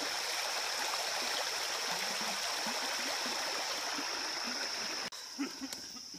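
A stream's running water rushes steadily as a dense, close, even wash of sound, then drops away abruptly near the end, leaving a few faint splashes and handling noises.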